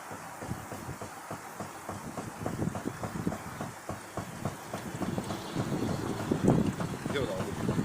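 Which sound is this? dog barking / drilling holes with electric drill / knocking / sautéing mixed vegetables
knocking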